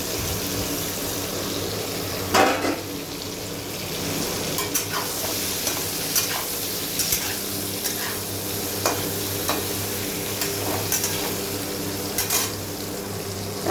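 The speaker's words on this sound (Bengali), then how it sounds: "আমার মশলাগুলো ভাজা হয়ে গিয়েছে। আমি এর মধ্যে ভেজে রাখা সবজিটা দিয়ে দিব।" Previously fried mixed vegetables go into a pan of frying spices for a korma, giving a continuous close sizzle broken by stirring scrapes and clacks of a spoon against the pan.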